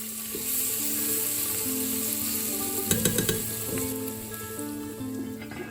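Green chilies fry in hot oil in a pan for spinach and lentil dal, giving a loud, continuous sizzle with a brief cluster of sharp crackles and clatter midway; no talking.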